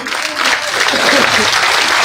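Loud clapping from a crowd at a village public rally in Khubru, Haryana, honoring elders with turbans; the applause swells after a quieter start and stays dense and close, with some crowd voices beneath.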